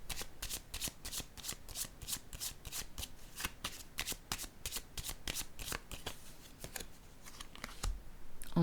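A deck of cards is shuffled by hand again and again in rapid riffles, crisp close flutters repeating steadily with no talk over them.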